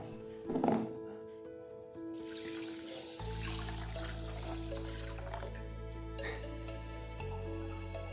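Basmati rice washed in water, starting with a brief splash followed by a steady watery swish and trickle, fairly quiet under background music.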